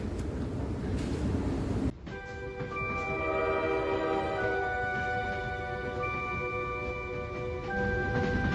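A Kazakhstan special train gives off a loud, steady rumble with several sustained tonal whines layered over it. The sound begins abruptly about two seconds in after a noisier stretch and continues unbroken.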